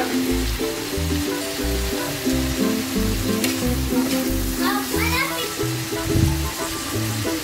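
Pork sisig with grilled pork and calamansi sizzles loudly in a hot pan, with a dense crackle of frying and bursts of stirring and scraping throughout.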